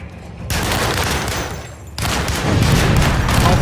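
Rapid automatic gunfire from a video game weapon, loud and sustained in two bursts with a brief break near the middle, dense and continuous throughout.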